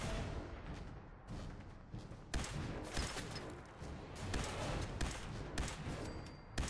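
Faint gunfire in Fallout 4 with rapid bursts and scattered shots in a dense, continuous volley, with louder sharp cracks coming in after the first couple of seconds.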